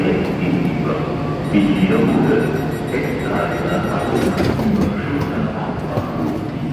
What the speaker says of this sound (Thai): ขบวนรถไฟที่พวกเราจะนั่งกลับบ้านนะคะ